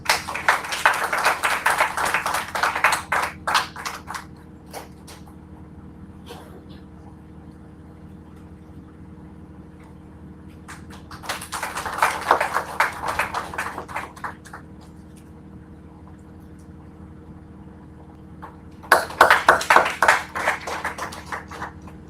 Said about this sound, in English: Professor G.S. Randhawa sir, a huge round of applause